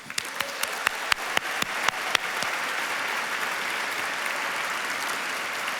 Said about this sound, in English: So please give yourselves a round of applause for your kind impulse to reach out into